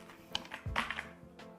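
Quick taps on an IQUNIX ZONEX75 custom mechanical keyboard with Alice Blue keycaps, a short burst of close, crisp clacks in an uneven rhythm, quiet and alone.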